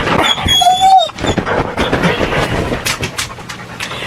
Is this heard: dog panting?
yes